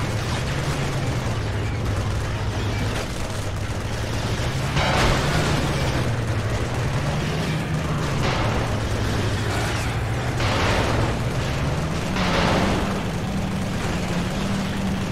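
Gunfire in the video game Resistance: Fall of Man, sustained rapid shots as dense bursts and booms over a low droning game soundscape, loud and continuous with periodic heavier blasts.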